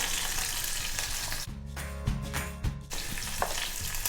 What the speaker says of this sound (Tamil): நம்ம தாளிச்சிடலாம். முதல்ல கடுகு, வெந்தயம், வெங்காயம், கருவேப்பிலை,